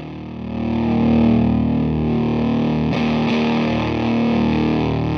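A guitar played through a Land Farm No Masters fuzz pedal, a thick, loud sustained distorted chord ringing out with a couple of brief pick scrapes midway, no talking.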